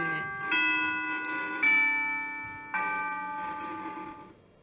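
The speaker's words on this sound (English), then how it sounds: "Sorry about that bell." A bell rings out in several clear, sustained strikes, each tone ringing on and slowly decaying before the next, heard during a lesson on graphing absolute value functions.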